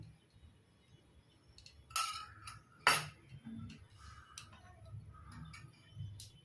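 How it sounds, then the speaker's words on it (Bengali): Spoon clinking against a glass while stirring roasted cumin powder into bael sharbat, two sharp metallic clinks followed by softer scraping taps and light clatter, quiet and close. "অল্প জল দিয়ে ভালোভাবে মিক্স করে নিচ্ছি"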